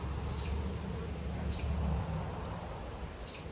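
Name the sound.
honey bees buzzing around hive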